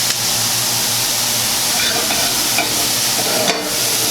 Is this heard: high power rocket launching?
no